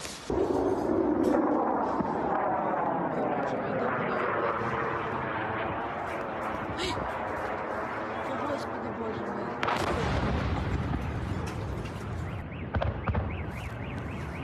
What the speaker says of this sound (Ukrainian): Чуєте зараз у небі звуки ППО